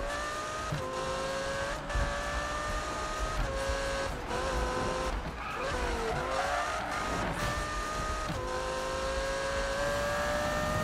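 A racing car cornering in the Need for Speed 2015 video game: a loud, sustained engine whine shifts pitch through gear changes and revs, while tires squeal and skid during the turn.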